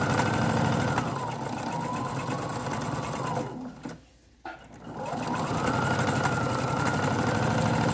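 A sewing machine stitches across the top of fabric knife pleats with a loud, rapid, steady motor hum and needle clatter, stopping briefly for about a second before running again.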